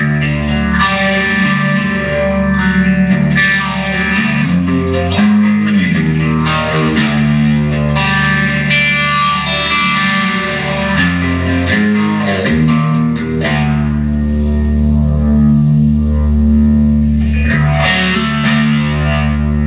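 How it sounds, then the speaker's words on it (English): Distorted electric guitar chords played through a swirling phaser effect, loud and continuous, with a sweeping, twangy tone and no voices. "There's phaser on it and it sounds absolutely great because of the twanginess of these guitars anyway."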